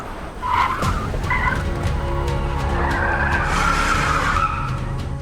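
A car with failed brakes skidding, tires squealing loudly under a continuous roaring engine, sustained and close, with no voices.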